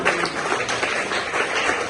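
An audience claps in dense, continuous applause at an International Women's Rights Day celebration held by the Alliance africaine de bâtisseurs party. The clapping is steady and fairly loud, with no talk over it.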